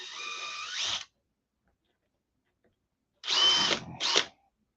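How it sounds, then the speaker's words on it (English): A power drill fitted with a 1/16 inch bit in its chuck whines in a short burst, falls silent for about two seconds, then runs again in two quick bursts, close and loud. "The 16th inch drill bit in a chuck just doesn't work real well."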